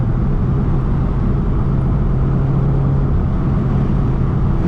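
A 2018 Subaru WRX cruises along a back road, with a constant low engine drone and road rumble heard from inside the cabin, steady and fairly loud with no voices.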